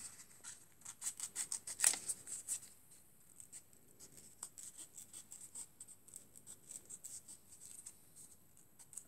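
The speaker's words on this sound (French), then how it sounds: "je vais venir découper tout autour" Scissors snip around black paper shoe material for a Wednesday Addams costume, giving quiet, close, rapid cutting sounds with short pauses in between and one sharper snip.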